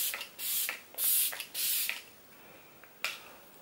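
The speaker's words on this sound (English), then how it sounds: "take my GLAM Glow Setter Makeup Setting Spray and spritz this all over Chloe's skin" GLAM Glow Setter makeup setting spray misted onto a face in several short, close hissing spritzes with brief pauses between them, the last burst a little softer.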